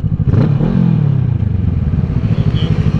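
Motorcycles riding past on an open road, heard under loud, steady engine rumble and wind buffeting from a moving bike, with a brief rising engine note early on and no talking.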